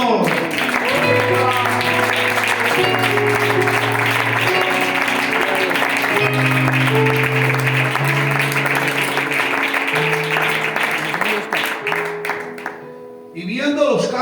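A church congregation applauding in praise, a dense sustained wash of many hands clapping under loud talk and background music, continuing for a long stretch before thinning and fading out near the end.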